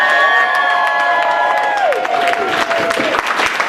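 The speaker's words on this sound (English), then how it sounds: "Make some noise for the featured poet." At an open mic poetry night, a lively audience cheers a featured poet loudly up close, with whoops and shouts rising above clapping that carries on throughout.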